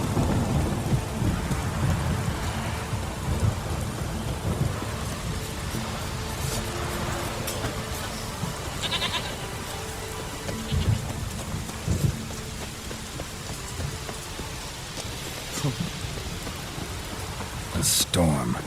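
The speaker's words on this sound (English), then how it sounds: "A storm, damn it." A thunderstorm in The Witcher 3: Wild Hunt brings steady rain on surfaces with low rolling thunder throughout. A few sharper cracks and clatters rise over the downpour.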